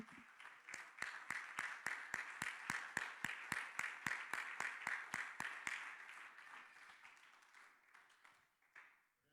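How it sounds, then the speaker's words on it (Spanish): A church congregation claps in steady, evenly spaced rhythmic beats that fade gradually toward the end, with no talking over them. "le dé un aplauso al Señor en esta tarde"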